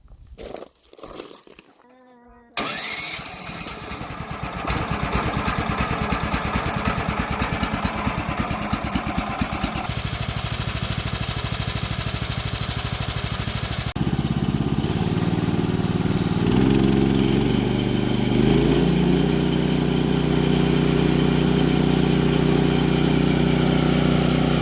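A small gas engine on a homemade trailer log arch fires up for its first start after a few quiet seconds, then runs steadily and loudly, its note shifting partway through as the throttle settles into a lower, rougher idle.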